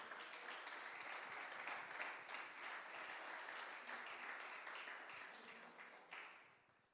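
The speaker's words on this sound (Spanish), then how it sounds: "Demos un aplauso al Señor en esta mañana" A church congregation applauds at a morning service, with dense, steady clapping from many hands that holds for several seconds, quiet and somewhat distant, before fading away.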